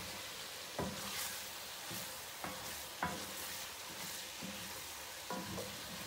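Ground beef frying in a pan sizzles steadily and fairly faintly, broken by a few soft scraping stirs at irregular intervals, with no one speaking.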